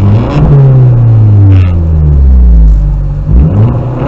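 A car engine revs hard with the windows rolled down, loud and close, its pitch climbing and falling in several long sweeps over a steady rumble.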